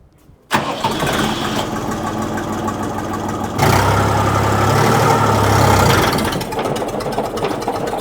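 A Kentavr 244SX walk-behind tractor engine starts up abruptly after a moment of quiet, then runs with a loud, rattling idle that swells briefly when revved before settling back.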